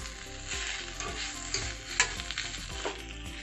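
Egg noodles (hakka style) being stirred together with fried egg in a hot pan: a steady close sizzle with repeated scraping and tossing clatters, loud and alone.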